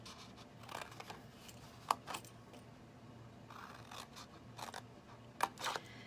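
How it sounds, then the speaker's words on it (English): Scissors cut paper along score lines in a series of short, quiet snips spaced irregularly, with small rustles of paper in between, close and soft in a quiet room. "And then we're going to cut up all of these score lines here"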